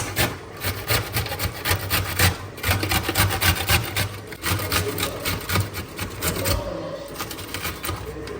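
Okra being grated for fish soup makes a fast, continuous rasping scrape, close and fairly loud, in a steady rapid rhythm for several seconds.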